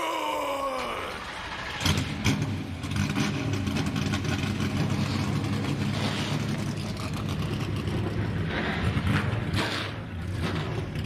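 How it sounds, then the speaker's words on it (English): NASCAR Xfinity Series race car engines at Dover fire up together and settle into a loud, steady, throaty rumble, with sharp bursts of revving rising out of the sustained roar of the field. "Drivers, start your engine!"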